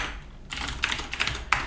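Short bursts of typing on a backlit Razer BlackWidow Ultimate mechanical keyboard, a few quick clustered keystrokes with brief pauses, close and alone.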